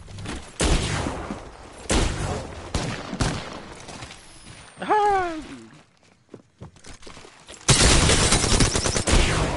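Video game gunfire in a PS4 shooter, several loud bursts of rapid shots separated by pauses and a short descending whine, ending in a dense sustained volley, close and punchy.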